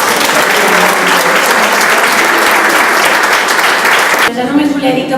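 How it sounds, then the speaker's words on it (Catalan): Loud, dense applause from a crowd at an art exhibition opening, steady and full for several seconds, then cutting off abruptly as a voice starts speaking. "jo demanaria un aplaudiment avui també per aquests dos representants de la cultura"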